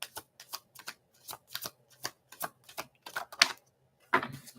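Oracle cards are shuffled by hand in a quiet room: a quick series of crisp, riffling card flutters in uneven bursts, close and fairly soft.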